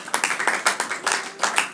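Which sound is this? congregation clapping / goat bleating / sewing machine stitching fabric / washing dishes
congregation clapping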